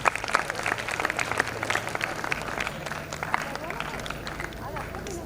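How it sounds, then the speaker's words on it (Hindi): Audience applause at a school Independence Day celebration, a steady dense patter of clapping with a few voices mixed in across the whole stretch. "दर्शकों से निवेदन करूंगा कि तालियां बजाकर उनका स्वागत करें।"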